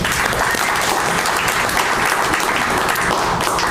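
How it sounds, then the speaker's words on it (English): Loud, dense applause from an audience at a city press conference in downtown Little Rock, sustained and even throughout, close and full with no voices on top. "Let's give her a round of applause."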